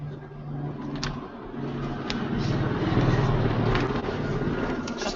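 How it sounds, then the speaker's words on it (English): Traffic noise picked up through a call participant's microphone: a continuous low rumble of engines and passing vehicles, moderately loud and steady, with faint intermittent clicks. "There is like a traffic jam. Yeah, it sounds like traffic."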